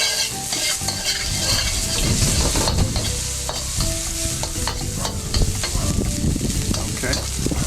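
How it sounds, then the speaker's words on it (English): Hot peppers sautéing in a pan, a loud continuous sizzle with a utensil stirring and scraping throughout, close and without talk. "I'm just going to saute those a little bit"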